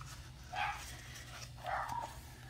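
A dog gives two brief faint barks or whimpers in a quiet room, about a second apart, with no talking.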